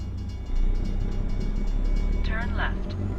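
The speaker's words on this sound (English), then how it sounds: "we're not going to beat the train here" A freight train loaded with logs rumbles past a truck in American Truck Simulator, a steady heavy rolling roar that swells after a moment and holds loud, while someone talks over it briefly.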